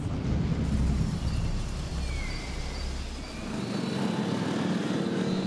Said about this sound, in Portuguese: e chuva, muita chuva.